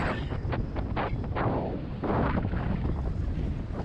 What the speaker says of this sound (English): all that wind just hit me in the face, so it's really hard to kind of hear